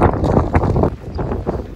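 Strong wind gusting across an open farm in Kuwait, loud blustery rumble buffeting the microphone in uneven surges, with faint rustling beneath.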